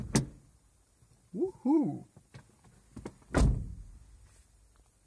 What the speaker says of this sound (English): time to open the door